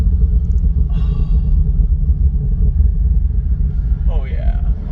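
A 2020 Chevrolet C8 Corvette convertible (HTC) gives a loud, steady low engine rumble that runs unbroken throughout. Brief vocal sounds rise over it near the start and again near the end.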